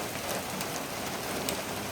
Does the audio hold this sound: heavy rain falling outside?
yes